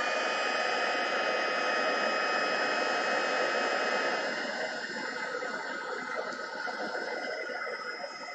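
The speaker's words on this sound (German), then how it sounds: "Einmal reinpusten bitte und dann wird geföhnt." Heat tool blowing hot air to melt embossing powder on a handmade greeting card, a steady, close, whooshing roar that holds for several seconds, then drops slightly in level while continuing.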